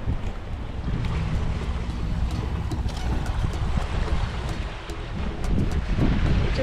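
A sailing yacht with its head sail out runs along the East African coast near Zanzibar, steady wind roaring across the microphone over rushing water and hull wash, loud and continuous with no voices.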